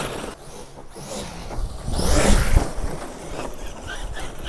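A Traxxas Sledge RC monster truck driving outdoors and popping wheelies, its electric motor whining and surging to a loud peak midway, with tyre and gravel noise, close to the microphone.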